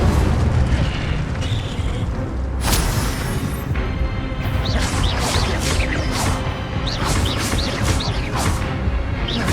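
Incendio fire spells cast in Hogwarts Legacy in the Forbidden Forest burst as loud, roaring fiery blasts over dense rumbling combat noise, with a sharp crack and several quick whooshing flares near the end.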